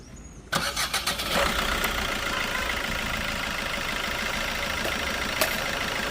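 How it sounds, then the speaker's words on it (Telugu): A 2018 Maruti S-Cross diesel car cranks briefly and catches, then settles into a steady, close diesel idle with a clattery rumble, heard alone with no talking. "నేనైతే స్టార్ట్ చేస్తున్నాను మనకి సౌండ్ ఎలా ఉంది ఏంటనేది ఒకసారి అయితే మీరు గమనించవచ్చండి"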